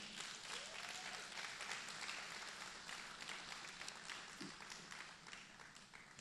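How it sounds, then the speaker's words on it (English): Steady applause from the audience at a photography business conference, a broad wash of many hands clapping that is held at a fairly even level throughout, heard from some distance. "I want you to give a big round of applause to Mr."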